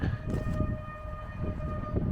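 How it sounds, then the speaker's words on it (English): A train rumbles past nearby, close to a river, a steady low roar with sustained tonal whine riding over it for the whole stretch. "There's a train."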